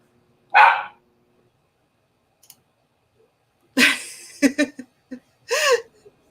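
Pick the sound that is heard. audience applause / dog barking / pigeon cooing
dog barking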